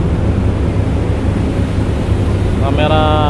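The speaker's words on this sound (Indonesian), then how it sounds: "anginnya masih kencang banget ya teman-teman ya, masih kencang banget anginnya" Strong, constant wind roars and buffets the microphone at the Bakauheni ferry port. A faint tonal horn or whistle-like sound comes in near the end, and the rumble stays loud throughout.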